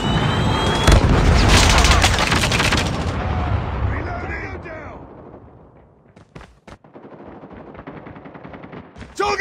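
Gunfire bursts and booming blasts from a predator missile strike in the Call of Duty Mobile game, dense and loud at first, then thinning to scattered shots with faint game voice lines.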